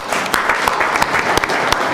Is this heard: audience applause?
yes